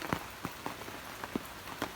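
Rain falls steadily outdoors in a quiet setting, with soft irregular drops tapping a nearby surface over a low continuous wash.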